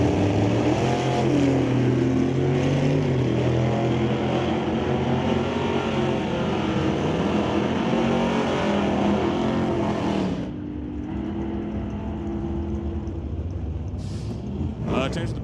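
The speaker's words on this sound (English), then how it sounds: "1969 Cougar with a 500 cubic inch motor underneath them" A 1969 Cougar drag car with a 500 cubic inch motor races down the strip at Mission Raceway Park, a loud sustained engine roar lasting about ten seconds, then dropping to a quieter rumble with an announcer talking over it.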